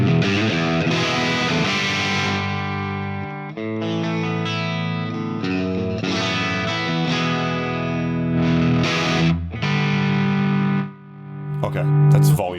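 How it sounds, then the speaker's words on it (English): An electric guitar runs through a ToneX One pedal set to its default Black Angus Marshall-style amp tone, playing loud, distorted sustained chords and riffs for several bars with brief pauses and a short silence near the end. "we'll see if this is the Black Angus sound, which is the default sound"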